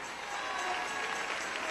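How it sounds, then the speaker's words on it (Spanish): A church congregation claps in praise of the Lord during a sermon, a brief wash of steady crowd applause with a faint voice beneath. "Dale ese aplauso al Señor"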